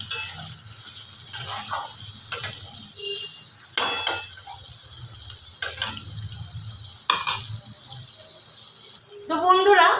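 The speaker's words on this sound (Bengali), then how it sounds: "এবার একটু ফুটিয়ে নেব।" A pot of aloo dum, potato curry with water added, bubbles and sizzles on the stove, broken by sharp clinks and scrapes of a spoon stirring at irregular intervals.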